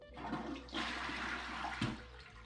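Water refilling a toilet bowl after a flush, a close rushing and gurgling swirl lasting a couple of seconds, fairly quiet and alone.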